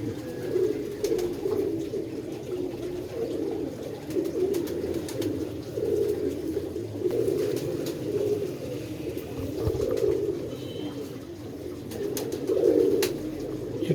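Pigeons coo in a continuous low, throaty murmur close by, the rolling calls rising and falling over fourteen seconds with occasional soft clicks and flutters.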